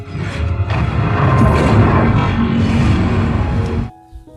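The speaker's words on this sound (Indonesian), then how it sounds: "Gemma menekan tombol yang meledakkan Meghan bersama Amelia" The robot M3gan explodes in the film, a loud, sustained booming blast with crashing debris that rolls on for several seconds before cutting off abruptly into near silence.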